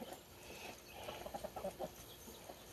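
Chickens in the Peru rainforest give a run of soft, close clucks in the middle of the moment over quiet background ambience, with no talk.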